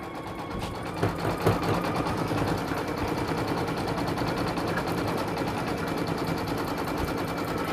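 An embroidery machine stitches a napkin design in a small 4x4 hoop, giving a steady, continuous rapid mechanical chatter with no pauses throughout.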